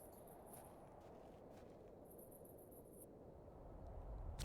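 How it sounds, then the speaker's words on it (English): A cricket chirps in the video game The Excavation of Hob's Barrow, faint high pulsed trills in two short bursts over a low steady ambient hum, with no talking. "Maybe that's just like a cricket?"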